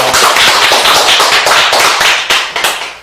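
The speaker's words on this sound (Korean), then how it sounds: "큰 박수로 모시겠습니다" Loud, close applause from an audience welcoming a lecturer to a talk, hands clapping in a fast, roughly rhythmic pattern that swells together and continues throughout.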